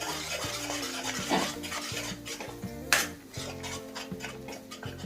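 A spoon scrapes and knocks against a pan while ground masala paste is stirred into roasted spices for a wedding-style brinjal and potato curry, with rhythmic clinks over a soft sizzle and one louder clatter, no speech.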